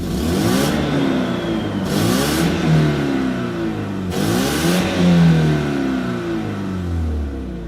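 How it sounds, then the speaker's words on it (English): A car engine revs hard three times in quick succession, each burst climbing and falling under a steady, throaty drone of a sizeable motor, with no one talking. "For all the size of the engine,"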